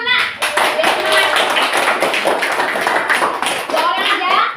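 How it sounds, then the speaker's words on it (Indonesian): A classroom of students claps hands together before a group presents, a dense run of quick overlapping claps close by, with children's voices underneath. "tepuk tangan dulu nak. Biar semangat."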